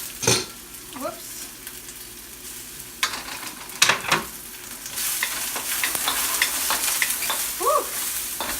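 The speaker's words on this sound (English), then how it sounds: "Little sizzle." Garlic sizzles softly in a hot pan, with a few clinks and scrapes of a utensil stirring it.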